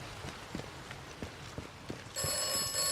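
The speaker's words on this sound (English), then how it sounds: "See the phone rings." An electronic telephone ring in the video game Atomfall starts partway through and keeps sounding steadily, over a rhythm of soft footsteps.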